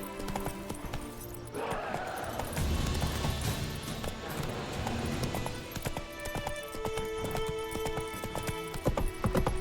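Geralt's horse Roach trots in The Witcher 3: Wild Hunt, steady rhythmic hoofbeats close up under a busy layer of game ambience and music, with a brief whinny-like sound early on.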